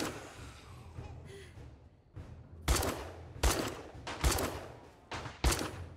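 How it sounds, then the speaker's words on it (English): Gunfire in the survival video game 7 Days to Die, with about five loud, sharp shots spaced irregularly across the second half after quieter game sounds at the start. "Now I'm hitting those shots."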